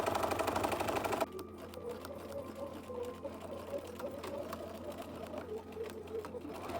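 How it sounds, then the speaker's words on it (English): A serger overlock sewing machine finishing the seams of a fantasy tabard costume runs in a loud, steady mechanical whir for about a second, then stops, leaving quieter room noise and faint handling sounds. "I'm going to use a serger"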